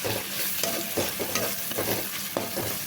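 Chicken pieces and fresh coriander leaves sizzle in hot oil while being stirred and tossed, with a continuous frying hiss broken by repeated scraping and clinking strokes of the spatula in the pan, close up and with no talking.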